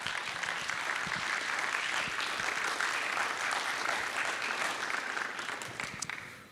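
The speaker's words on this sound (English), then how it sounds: "Let's give him a round of applause, please." A live audience at a Fort Worth discourse event breaks into a dense round of applause, steady and full for about six seconds before starting to thin out at the end.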